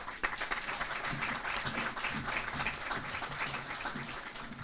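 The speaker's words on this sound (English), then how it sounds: "Can we get one more round of applause for all of you?" A crowd at an awards ceremony applauds steadily, dense clapping filling the space at an even level throughout.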